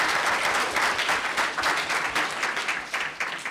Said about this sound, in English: we'll have to clap in absentia for her